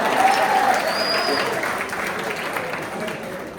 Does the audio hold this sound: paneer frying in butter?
no